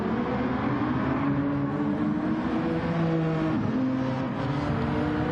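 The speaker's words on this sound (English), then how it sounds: "And listen to the exhaust on that car." Gr.3 race car exhaust in Gran Turismo 7 at Trial Mountain Circuit, a steady loud engine drone with shifting harmonic pitch as the car climbs and drops through revs, continuous and alone.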